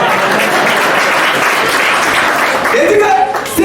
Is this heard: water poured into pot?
no